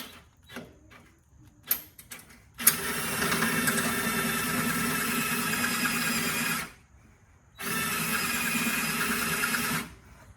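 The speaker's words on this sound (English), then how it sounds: "I'm gonna go ahead and drill that out" A drill bores out a hole for an inner fender liner, starting with a few short clicks and taps and then settling into two sustained whirring runs of about four and two seconds with a brief pause between them.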